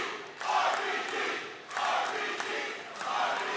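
A wrestling arena crowd at an independent pro show roars in swelling waves, loud and sustained with short dips between surges, some distance from the listener.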